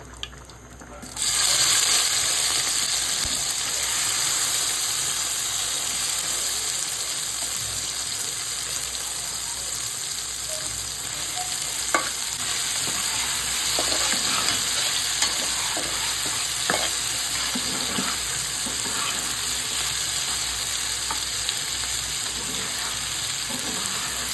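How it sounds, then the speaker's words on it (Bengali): Boiled small new potatoes added to hot soybean oil, a sudden loud sizzle that settles into a steady, close hiss of frying with occasional stirring scrapes, no talking. "পরিমাণ মতো সয়াবিন তেল, সিদ্ধ করে রাখা আলুটা এখন দিয়ে দিব।"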